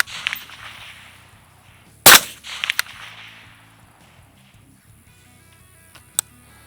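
Rifle shots from an MK12 Mod 0 precision rifle ring off steel plate targets at long range: a loud sharp crack near two seconds, a few quicker follow-up reports, then one more distant ping, over faint background hum.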